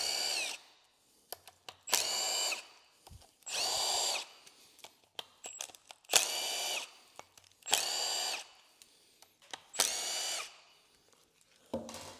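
Power drill or impact tool bursts removing bolts from a Danfoss OMT 400 hydraulic wheel motor on a Case 1840 skid steer, six loud whirring runs of one to two seconds separated by clanks and handling noises, close up.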